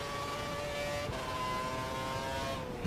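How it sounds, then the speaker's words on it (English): Formula 1 race cars from the F1 2012 game climbing a hill at the Malaysian Grand Prix, engines holding a steady high-pitched whine with a slight rise near the end, continuous and fairly close. "Cars going up the hill."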